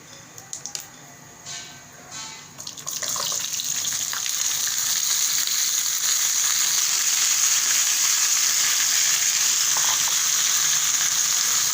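Potatoes sizzling in oil in a pan while cooking aloo katli, a steady close hiss of frying that swells after a few stirring clinks and continues evenly, with no talking.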